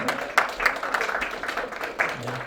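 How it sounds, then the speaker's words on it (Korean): Audience applause at a ceremony: a crowd of clapping hands sustained throughout, fairly close and lively, with a few sharper claps standing out. "큰 박수로 감사의 인사 드리겠습니다."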